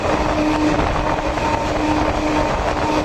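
A crowded Sealdah–Diamond Harbour galloping local train runs at speed, skipping a station, giving a loud, unbroken rumble and rattle throughout.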